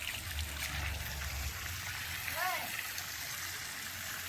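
Water is poured onto the base of a mango tree, making a gentle trickle and splash that carries on steadily, with a brief faint gurgle partway through.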